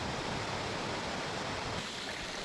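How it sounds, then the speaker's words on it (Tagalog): Rushing water of Bisibis Falls, a steady broadband roar of falling water heard continuously and fairly close, with no voices. "Yan, narinig ng lagaslas."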